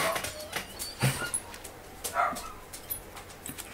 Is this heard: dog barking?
yes